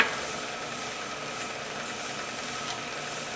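A brake lathe runs steadily close by as it makes a light scratch cut on a brake rotor, giving a continuous mechanical whir with faint scraping texture and no voices.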